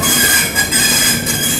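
Coromandel Express pulling out of Vijayawada railway station, a steady loud rolling rumble with high metallic wheel squeal running through the whole short stretch.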